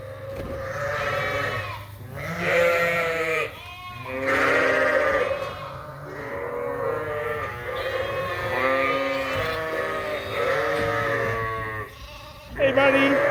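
A ewe bleats repeatedly, calling to her two lambs on a sheep farm, with several loud, close, wavering calls following one another in quick succession.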